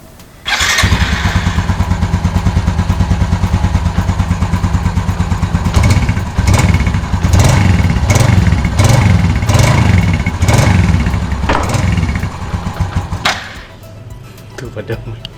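Yamaha Lagenda 115ZR motorcycle with its stock exhaust starts up and idles loudly close by, then is blipped with a series of throttle revs before settling back, with someone speaking over it.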